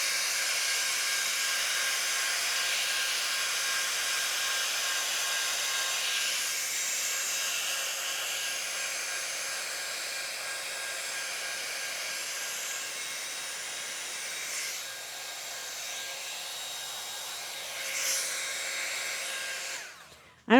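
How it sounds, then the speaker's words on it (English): A blow dryer drying watercolor paint runs continuously with a steady high whirring hiss, its pitch shifting slightly now and then before cutting off at the end. "My blow dryer was actually making some of the drips"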